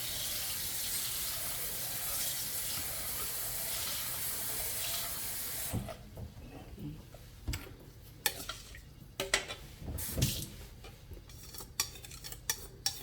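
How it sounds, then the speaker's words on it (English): A steady stream of room-temperature water pours for several seconds onto basil seeds to soak them, then stops, followed by scattered clinks and light stirring taps of a utensil in a container. "Just use room temperature water to soak the basil seeds."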